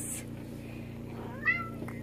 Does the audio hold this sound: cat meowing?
yes